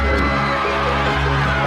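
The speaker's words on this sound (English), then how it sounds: "Here they cheer as friends open their acceptances." Students at a school cheer and shout together as friends open college acceptance letters, a dense, steady crowd roar of whoops and excited voices filling the short moment.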